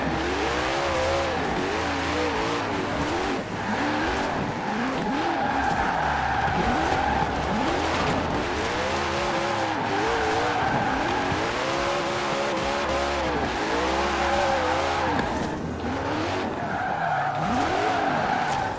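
Koenigsegg Regera drifting in Forza Horizon 4, its mid-mounted engine droning loud and steady with rising and falling revs and continuous tire squeal throughout, with no talking.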